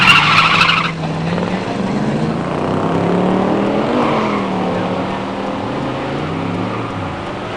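Drag race between a 1969 Cougar Eliminator 351 automatic and a 1969 Z28 302 four-speed: a brief loud tire squeal, then two engines roaring and rising through gear changes, loud and sustained.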